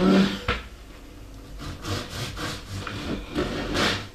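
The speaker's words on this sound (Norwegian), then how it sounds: "skjære opp brødet" A knife saws through a thick loaf of bread in a few rough back-and-forth strokes, close and fairly loud, with crusty rasping between quieter pauses and no talk.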